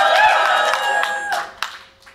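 An audience at a hacker conference cheers and claps for the Second Reality demoscene production. The burst is short and bright, with scattered claps and shouts that fade over about two seconds.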